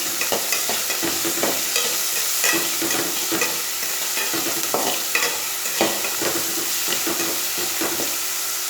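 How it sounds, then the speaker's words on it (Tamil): Onions are sautéed and stirred in a hot pan while cooking an egg thokku, with a steady sizzle and frying hiss. A spatula scrapes and stirs in a loose repeated rhythm, close and fairly loud, with no voices. "சிவந்து வர்ற அளவுக்கு நல்லா வதக்குங்க."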